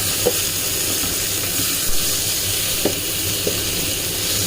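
Onion sizzling and frying in a pan while batch cooking at home, a steady loud hiss with occasional soft stirring knocks and no talk.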